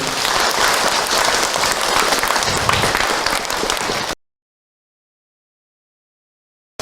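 Applause from a religious lecture audience, a dense steady wash of clapping for about four seconds that cuts off abruptly into silence.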